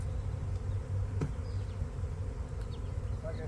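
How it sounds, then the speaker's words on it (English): A swarm of attacking bees buzzes loudly and continuously close by, a dense droning hum with individual insects darting past. "these are not nice bees. They're attacking the hell out of me here."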